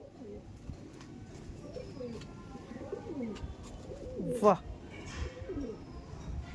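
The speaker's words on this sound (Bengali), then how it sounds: "দেখুন এটা আছে মেল পায়রা আর এটা আছে ফিমেল পায়রা।" Kalanka pigeons in a loft give repeated soft, throaty coos close by, one rising to a louder call, while someone talks over them.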